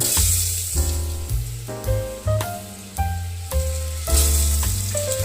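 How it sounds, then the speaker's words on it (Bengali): Potatoes frying in oil inside a pressure cooker, a steady hissing sizzle with occasional stirring, partly masked by louder background music with a deep, repeating bass line. "আলুগুলোকে একটু নাড়াচাড়া করে হালকা ফ্রাই করে নেব"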